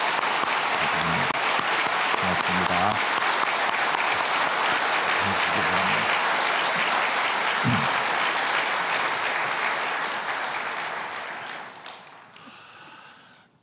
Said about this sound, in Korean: 여러분, 뜨거운 박수로 이분들을 환영하도록 하겠습니다